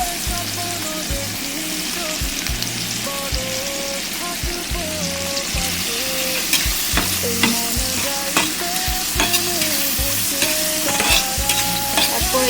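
Three medium tomatoes fry with onions in a pan for a salmon fish curry, giving a continuous sizzle broken by repeated scraping and knocking as the mix is stirred.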